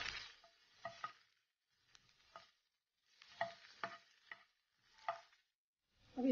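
Grated ginger and garlic sautéed briefly in a pan for cauliflower fried rice, heard as several short bursts of sizzling and stirring scrapes separated by quiet gaps, fairly faint and without talk.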